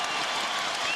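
Fans roar in the arena at a 2004 Rockets versus Lakers first-round NBA playoff game, a dense, continuous wall of cheering and applause filling the whole second.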